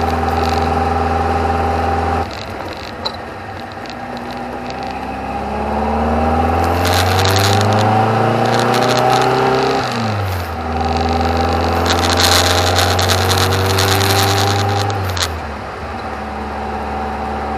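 A VW Beetle with a 2054cc stroker engine built on a 74mm crank accelerates gently at quarter throttle, its close, steady drone climbing in pitch through two pulls with a brief dip between them and no talk.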